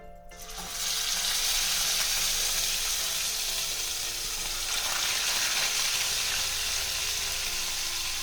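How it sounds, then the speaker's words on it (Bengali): Fish pieces frying in hot salted oil in a pan, a loud, dense, continuous sizzle that surges up after a quiet first second and holds steady close by, with no talking. "মাছ ভেজে নেবো"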